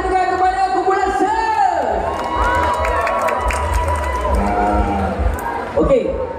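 A festival crowd at a Penang fair cheers and whoops loudly for a rock band, with shouting voices and a sustained roar of noise throughout, plus a host speaking over the crowd.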